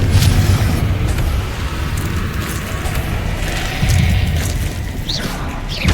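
Confringo fire spell exploding in Hogwarts Legacy gameplay, a loud, sustained booming rumble with crackling debris, heavy low end throughout and no talking.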